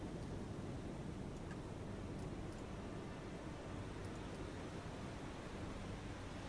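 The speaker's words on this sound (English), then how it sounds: "All these waves are making it more difficult than usual." Steady, broad wash of sea waves in the naval combat game War on the Sea, a continuous rushing surf-like noise at low level with no distinct breaks.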